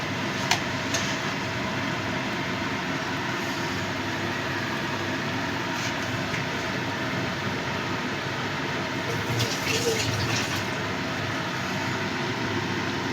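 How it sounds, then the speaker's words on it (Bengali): Gravy for an aamudi fish curry simmers in a pan, a steady close bubbling hiss that runs throughout with a few light clinks on top. "ঝোলটা ফুটতে শুরু করেছে।"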